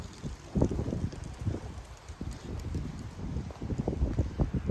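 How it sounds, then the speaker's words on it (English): Gusty wind buffets the microphone outdoors by a pavilion at Fort King in Ocala, Florida, in uneven rumbling bursts, steady and fairly close throughout. "It's getting pretty windy out here."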